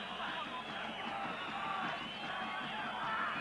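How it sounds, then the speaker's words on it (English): Large stadium crowd of Nigerian supporters at a youth football match, a dense, continuous roar of cheering and shouting that swells slightly, steady and loud throughout. "As you can hear, the Nigerians come here with a certain amount of support"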